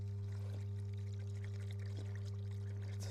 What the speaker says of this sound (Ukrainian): Налью сюди води.